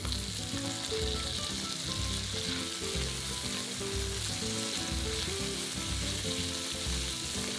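Chilies sizzle and fry steadily in a pan for a lunch-box dish, a continuous close hiss with faint stirring and a music bed underneath.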